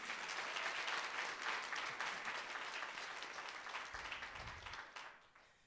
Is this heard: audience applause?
yes